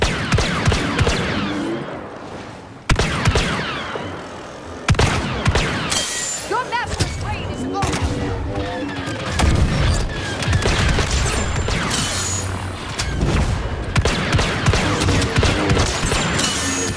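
Rapid blaster fire from Star Wars Battlefront 2 in a heroes-versus-villains battle with Han Solo, loud and dense bursts of shots and impacts crowding together almost without pause, with a few brief gaps.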